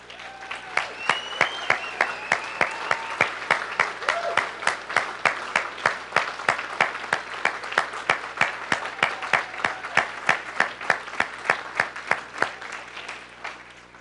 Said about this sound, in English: they really do deserve a huge round of applause